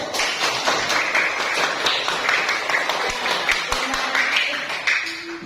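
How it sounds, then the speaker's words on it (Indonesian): Classroom pupils clapping their hands in uneven bursts of close, sharp claps, with some quieter voices and light tapping mixed in underneath. "Ya, baik, tepuk tangannya dulu."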